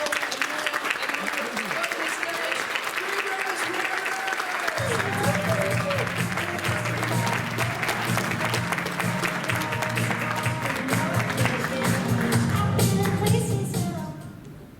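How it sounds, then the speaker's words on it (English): Warm, sustained applause from a comedy club audience rolls on for over ten seconds, swelling louder partway through as cheers and a low rumble join in, then cuts off abruptly near the end. "Please give that round of applause going, lift it up more."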